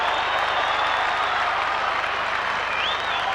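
Fitzroy Lions supporters applaud and cheer a goal at a 1991 Australian football match against North Melbourne, a steady wash of crowd noise from the stands with no commentary over it.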